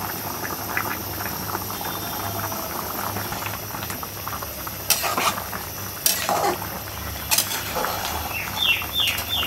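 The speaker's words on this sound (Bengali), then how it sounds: "একটু পানি দিই আর একটু ফুটাই নেই, টমেটোগুলোকে একটু আওলাই নেই" Tomatoes boiling in water in a pan, a continuous bubbling simmer with a few louder clanks and scrapes as they are stirred and mashed, close with no talking.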